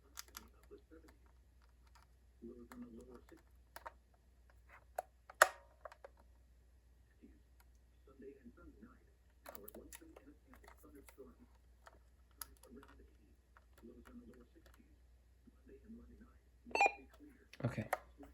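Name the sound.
buttons held to set clock on RadioShack 12-256 weather radio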